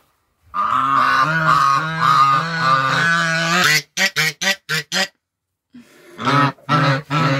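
Brooding geese on a farm honk loudly and close up in a long, harsh run, then a string of short separate honks, a pause, and a few more bursts.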